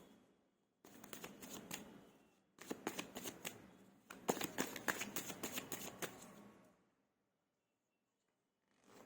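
A deck of tarot cards is shuffled up close in three quick bursts of soft riffling and flapping, with short pauses between them, then falls quiet.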